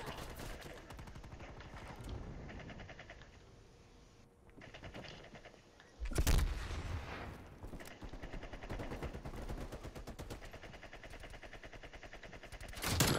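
Gunfire in Black Ops Cold War during a Team Deathmatch match, shooting through wood, with dense rapid bursts running almost continuously and a louder, heavier blast around the middle, all fairly close.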